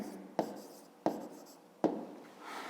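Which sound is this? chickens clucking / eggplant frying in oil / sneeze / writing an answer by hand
writing an answer by hand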